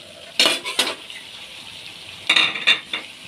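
Tomatoes added to fried chicken in a pan, sharp metal spoon clinks and scrapes in two short bursts over a low steady sizzle.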